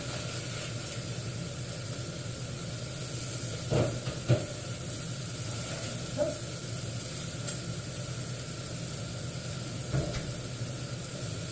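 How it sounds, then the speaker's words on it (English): Pork chops sear on a hot griddle with a steady, fairly loud sizzle and hiss throughout, broken by a few faint clicks and scrapes. "as the pork chops are searing, they're not going to be completely cooked on the griddle"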